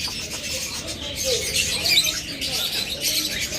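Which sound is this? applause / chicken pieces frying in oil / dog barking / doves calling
doves calling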